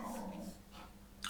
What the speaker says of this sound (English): I do apologize about the dogs barking.